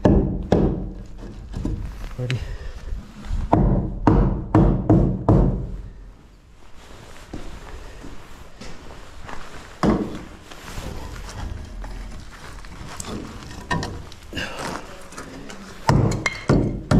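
A hammer strikes wood in quick repeated blows, then pauses before a few more scattered knocks and thuds follow nearby, during brick-laying construction work.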